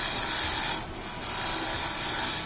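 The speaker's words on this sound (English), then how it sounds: "To cut the dovetail, I'm just going to go up on the side a little bit." A carbide woodturning tool cuts a dovetail into a wooden tenon on a lathe, giving a steady close-up scraping rasp that dips briefly near the middle and then runs on before stopping.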